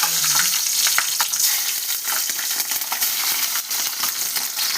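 Oil heated in a pan crackles and sizzles steadily, with small sharp pops and occasional stirring scrapes, close and continuous.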